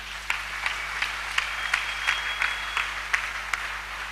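A church congregation claps together, steady rhythmic hand claps that sound soft and somewhat distant in a reverberant room.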